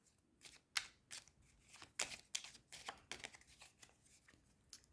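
A deck of peril cards for the solo board game Friday is shuffled by hand at close range, a series of quick, crisp riffles and taps in an uneven rhythm, with no talking.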